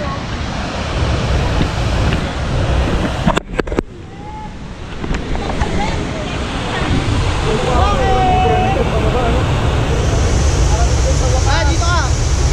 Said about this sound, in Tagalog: Naririnig mo na dyan yung talon pare.